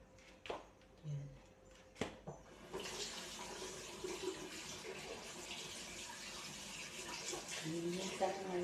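Water runs from a kitchen tap while dishes are washed, a steady close splashing stream that starts after a few clinks and a short voice, continuing alone with occasional clatter.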